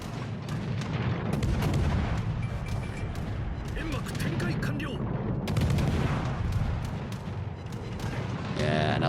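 Naval guns fire in World of Warships: Legends as ships trade shots, producing dense, continuous booming volleys and crackling bursts under steady battle noise, with a voice talking over parts of it.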